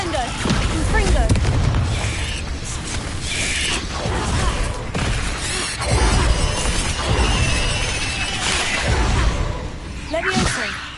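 Confringo fire spell blasts and other spell effects in Hogwarts Legacy sound as repeated booming, shattering bursts with creaks and whooshes in a busy battle mix, with a voice calling out spell names.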